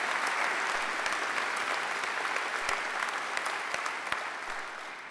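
Sustained, full audience applause filling a graduation ceremony hall, with a dense, even roar of clapping and occasional sharper individual claps, tapering slightly toward the end.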